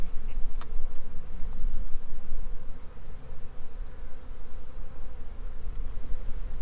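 Honey bees buzz in a dense, steady drone around an open backyard hive during a spring inspection, loud and close with no voices.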